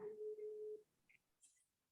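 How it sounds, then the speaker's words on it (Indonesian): A phone call drops and a single steady electronic tone sounds for under a second, followed by faint clicks and near silence. "ini telepon mama saya putus"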